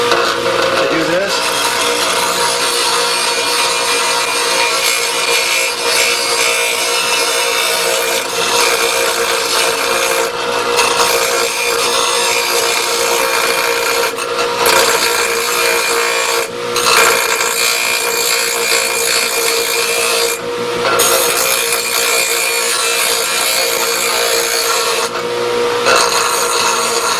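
A grinder wheel loaded with polishing compound works against the side of a knife blade, making a loud continuous rubbing hum with a whirring drone. The pressure shifts and the sound dips in brief pauses.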